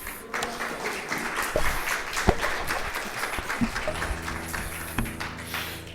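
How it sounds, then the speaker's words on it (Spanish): A church congregation applauds during a Spanish-language worship service, moderate clapping with scattered sharper claps and some background tone near the end. "Dale un aplauso a Cristo."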